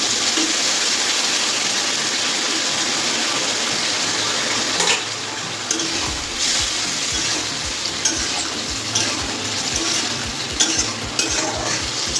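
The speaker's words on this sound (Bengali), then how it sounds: "এবার আমি একটু জল দিয়ে দেবো।" Water poured into a hot cooking pot of vegetables for a pabda fish curry, a loud continuous hiss and sizzle with splashing that gives way midway to bubbling and stirring scrapes, close and without talk.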